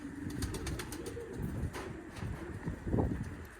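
Pigeons coo softly in a loft during pairing season, with several low, rounded calls overlapping and a faint flutter of wings nearby.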